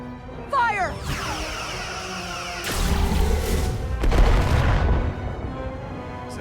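Starship weapons fire in the video game Star Trek Resurgence: a few heavy blasts and booming impacts from about three seconds in, broad and loud over a steady hum, with a voice speaking near the start.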